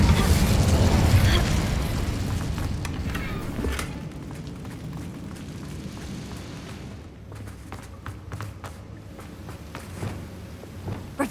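An Incendio fire spell in Hogwarts Legacy erupts with a heavy, rumbling blast that opens loud and slowly dies away into crackling debris and a softer game ambience.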